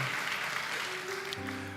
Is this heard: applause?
yes